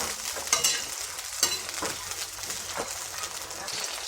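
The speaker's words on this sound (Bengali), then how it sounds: "ফুলকপিটাকে একটু ভালো করে ভেজে নেব।" Cauliflower frying in hot oil, with a steady sizzle, several sharp spatters and the scrape of stirring. It is close and moderately loud.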